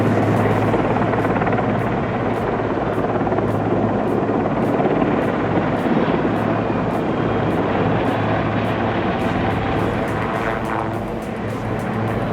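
A helicopter hovers while airlifting multi-ton logs off steep logging slopes, its rotor thumping in a steady, loud, close drone that holds without a break and eases slightly near the end.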